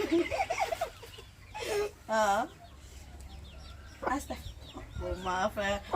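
Hens cluck and squawk in short bursts nearby, with a low steady hum in the background; a voice talks briefly between the calls.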